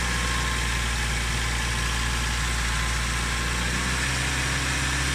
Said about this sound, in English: You would basically sit the engine at about 1500 RPM, and that gets coolant circulating around the engine quicker.